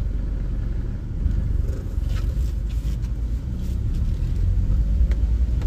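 Car cruising along a road at the start of a long solo drive, a steady low rumble of engine and road noise heard from inside the cabin, with no talk.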